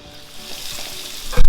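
Onions drop into hot oil that has just browned garlic, a bright, dense sizzle close up that surges loudly at the very end as they hit the pan.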